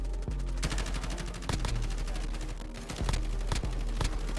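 Rapid bursts of gunfire in Call of Duty: Warzone crack repeatedly over a constant low rumble, loud and close, with several sharp shots spaced through the stretch.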